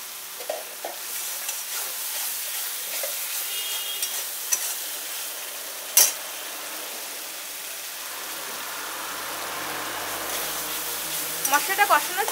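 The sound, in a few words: spices being stir-fried in a pan for jackfruit kofta curry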